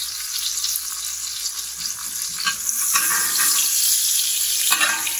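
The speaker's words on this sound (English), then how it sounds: "my butter on the bottom is just foaming" Butter foams and sizzles steadily in a hot pan while a steak cooks, a loud, continuous crackling hiss close up that swells slightly toward the end, with no voices.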